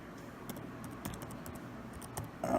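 A computer keyboard clicks through a short line of typing, the keystrokes quick and fairly close over a steady background hum with no one talking.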